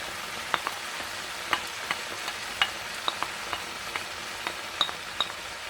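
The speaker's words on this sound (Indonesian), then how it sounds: "Kalau sudah berubah warna seperti ini, lalu kita masukkan bawang bombay." Beef sizzles steadily in a pan as onions and garlic go in, with a soft frying hiss throughout and scattered light clinks and scrapes of stirring.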